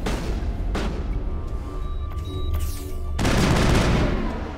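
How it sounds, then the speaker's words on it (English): Gunfire from a weapon in the video game Mass Effect, a rapid run of loud sci-fi shots and booms over combat noise, with a heavier burst of firing near the end. "Why is this gun so inaccurate?"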